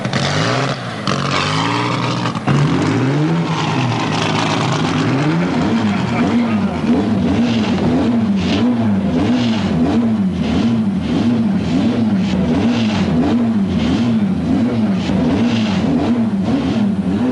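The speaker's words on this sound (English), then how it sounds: "They're warming up my car." A vintage sports car engine warms up in the paddock at Silverstone, idling loudly and then revving in a steady repeating rise and fall, close by, with voices talking over it.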